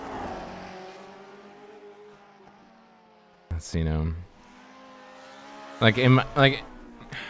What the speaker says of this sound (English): Just hearing the sounds of this engine.